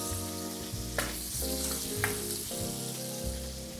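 Steak pieces sear in a pan greased with olive oil, giving a continuous close sizzle with occasional stirring clatters over steady background music.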